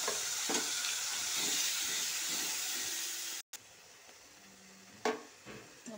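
Spice paste hits hot oil with a loud, steady sizzle and hiss that runs unbroken for several seconds. The noise cuts out briefly, then a quieter fry continues with a few utensil knocks.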